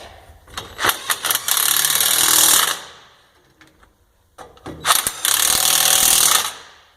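Impact wrench tightening electric trailer brake bolts: two close, loud bursts of rapid hammering, each a few short rattling taps followed by a sustained chattering run lasting about two seconds, with a quiet gap between them.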